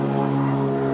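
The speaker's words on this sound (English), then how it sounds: "An airplane." An airplane passes overhead above a ridge in open hunting country during deer season, a steady droning hum with a constant low pitch that holds evenly for the whole second, with no voices.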